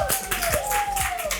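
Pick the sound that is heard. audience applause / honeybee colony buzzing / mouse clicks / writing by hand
audience applause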